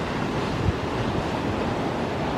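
Rough ocean surf rolls in as a steady, loud, broadband roar with constant wash and faint wind buffeting, close by and unbroken for the whole stretch.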